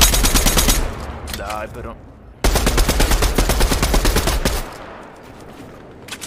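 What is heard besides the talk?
gunfire in the video game Fortnite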